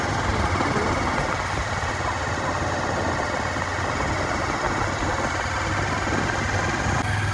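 A motorbike ridden slowly along a village route hums with a constant, close engine drone and broadband road and wind noise, steady and unbroken throughout.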